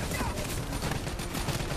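Dense enemy gunfire in the Call of Duty Black Ops 3 video game, a steady loud barrage of overlapping shots with no gaps, filling the whole short stretch.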